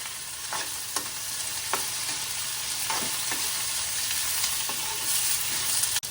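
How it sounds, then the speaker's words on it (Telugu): Ivy gourd and tomatoes fry with turmeric in a pan, giving a faint, steady sizzle broken by several soft scrapes as the mixture is stirred, close and alone with no talk. "ఇప్పుడు కొద్దిగా పసుపు వేసుకొని వేపేసుకుందాం దొండకాయలు కొద్దిగా మగ్గాయి కదండి దీంట్లోకి టమాటాలు కూడా వేసుకొని కొద్దిసేపు మగ్గించుకుందాం"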